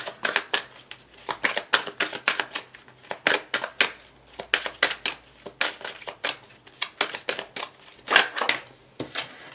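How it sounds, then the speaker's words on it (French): Tarot cards are shuffled by hand in a steady run of crisp, rapid riffling slaps and flicks, close and fairly loud, with no talking over them. "On va aller chercher une carte pour clôturer ce tirage."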